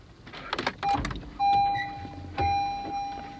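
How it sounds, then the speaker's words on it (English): A wrecked 2017 Acura NSX tries to start but fails: clicks and rattles, then two sustained electric whirring runs of a motor or pump in the back, each fading out, with no engine catching. "I hear something kicking in the back, but it doesn't want to start."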